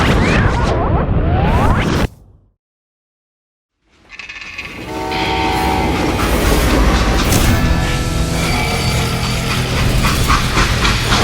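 A steam train runs in the Western video game Call of Juarez Gunslinger, a loud broadband rail rumble that cuts to silence for about two seconds, then returns steadily with clanking and metallic tones.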